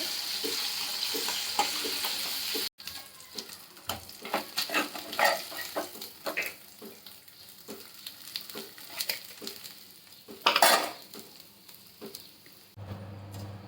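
Five-spice seeds and bata fish sizzle and spatter in hot oil in a pan, a steady crackling fry with scattered pops and a brief louder burst near the end, close and alone.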